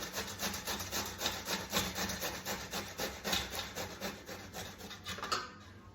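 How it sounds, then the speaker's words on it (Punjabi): Bottle gourd (ghiya) is grated by hand on the medium side of a grater for kofta, giving a steady rhythm of rasping strokes, close and fairly loud, that stop just before the end. "ਮੀਡੀਅਮ ਸਾਈਜ਼ ਸਾਈਡ ਤੋਂ ਇਹਨੂੰ ਹੁਣ ਕ੍ਰਸ਼ ਕਰਨਾ ਸਟਾਰਟ ਕਰ ਦਵਾਂਗੇ"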